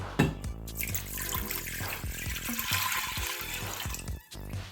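Water runs into the inner pot of a 6-quart Instant Pot pressure cooker, three cups poured in a steady splashing, gurgling stream that stays close and fairly loud, with no talking.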